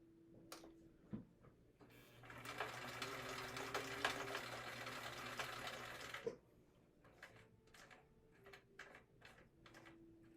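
A sewing machine stitches a leather wallet, starting with a few slow hand-cranked clicks, then a steady whirring run of several seconds, then more single ticking stitches, quiet and close.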